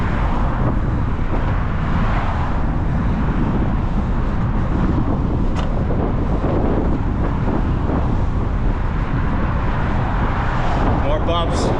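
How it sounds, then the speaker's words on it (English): Strong wind buffets the microphone while cycling along the Esplanade in Boston, a constant loud roar with bumps and passing traffic underneath and a voice speaking through it. "Very windy too."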